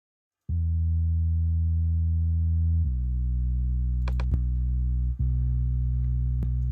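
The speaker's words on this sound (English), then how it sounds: "So I'll just solo out the bass so you can hear that more." A deep, sustained bass tone played alone, with a pitch shift partway through and a brief dropout near the end.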